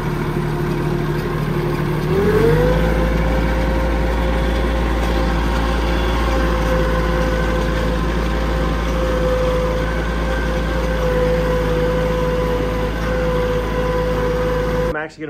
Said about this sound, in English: So we're gonna hop on the tractor, we're gonna get to mowing down the pasture.